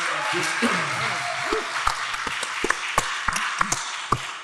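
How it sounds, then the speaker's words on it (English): A room of quiz-show participants and audience at a local trivia event gives a round of applause, a steady patter of clapping with a few louder individual claps and voices mixed in. "Give everybody a big round of applause"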